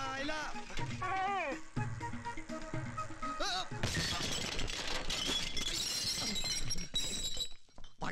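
A jar smashes in a film scene, a loud crash of shattering glass or ceramic followed by clattering fragments, after a burst of shouting voices.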